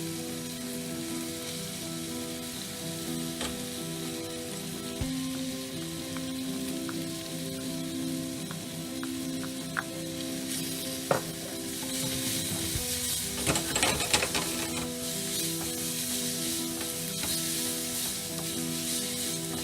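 Onions and garlic for egg fried rice sizzle steadily in a hot pan, a dense continuous crackle and hiss with occasional louder pops and stirring scrapes midway.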